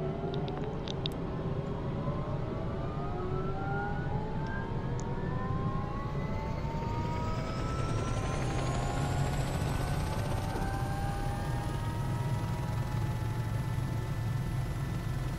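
An Airbus H130 helicopter in Microsoft Flight Simulator drones steadily with a rising turbine whine and a constant low rotor rumble, loud and even throughout, with no talk.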